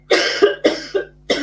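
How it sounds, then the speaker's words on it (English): A woman coughs four times in a fairly even rhythm, close and loud, each cough a short harsh burst separated by brief pauses. "Now I'm coughing."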